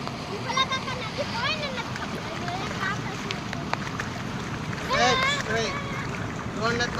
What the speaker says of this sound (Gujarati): હાલ જો નદી આવી ગયા ને આમ જો પાણી જાય છે માથે છે વડાપુલિયા માથે છે